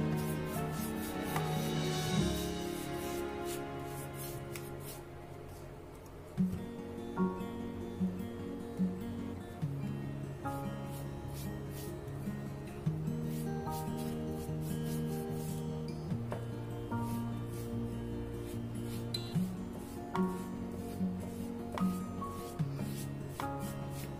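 A brush spreads varnish over a kitchen paper towel holder in quiet, rhythmic rubbing strokes, close and soft, repeating every second or two over a steady tonal hum.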